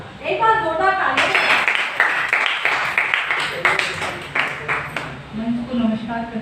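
A round of audience clapping at a Hindi poetry gathering, rising after a spoken line and continuing as a dense patter of hands for several seconds before talk resumes.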